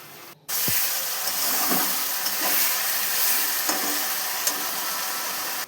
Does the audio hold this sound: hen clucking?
no